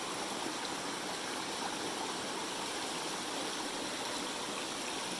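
A small waterfall along a hiking trail, heard as a steady, broad rush of falling water close by, continuous and even throughout with no voices.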